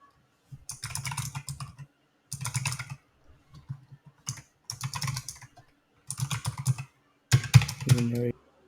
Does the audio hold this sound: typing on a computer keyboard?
yes